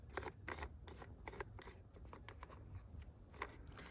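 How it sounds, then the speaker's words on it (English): A plastic cover is pried off a DeWalt chainsaw outdoors in the cold, with a run of close, dry clicks, scrapes and rubbing snaps spread unevenly over a few seconds. "we're going to pop this plastic cover right off of here"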